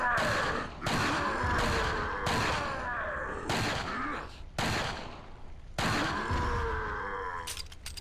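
Gunshots fire in Resident Evil 4, about seven loud, sharp blasts spaced roughly a second apart, each followed by a short ringing decay amid groans and thuds.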